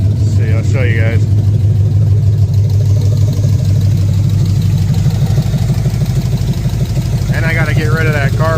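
A Cadillac Fleetwood hearse with a 454 engine and no exhaust fitted runs at a loud, steady rumbling idle nearby, with short bursts of human voices at the start and end.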